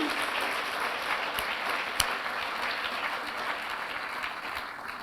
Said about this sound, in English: A round of applause for the four of them.